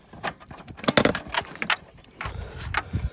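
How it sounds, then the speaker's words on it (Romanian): A bunch of keys for an 80cc scooter jangles and clinks in several quick, close bursts as it is picked up and handled, with short pauses between the rattles. "Hai să luăm cheile"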